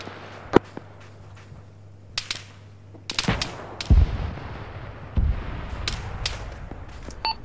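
Gunfire and heavy cannon blasts from a tank in a military combat game: sharp cracks spread unevenly over several seconds, with a couple of deeper, booming hits standing out against a low, steady engine hum.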